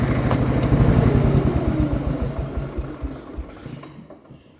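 A 1969 Gravely 432 tractor engine running with its idle set too high, a close, loud, steady rapid chugging that slowly fades as the engine winds down and stops.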